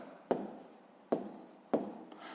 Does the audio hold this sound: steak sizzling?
no